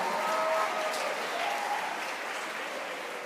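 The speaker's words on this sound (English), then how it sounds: "everyone deserves a big round of applause" Applause from the audience at a marching band prelims competition in Orlando, Florida fills the hall, a broad even roar of clapping that starts strongest and slowly eases off.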